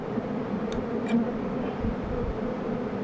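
Honeybees at an open hive during beekeeping buzzing in a low, steady drone close by, with a couple of individual bees passing briefly near.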